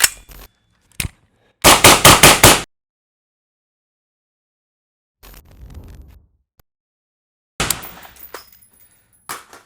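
A 14.5 inch BCM rifle with a SOCOM 556 Mini 4 suppressor fires M193 ammunition: sharp close reports, including a quick burst of about five shots, separated by silent gaps.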